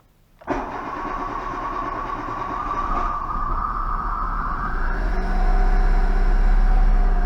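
A Daewoo Matiz car engine cranks and catches, then settles into a steady close idle that rises slightly in pitch and loudness toward the end, with no talk over it.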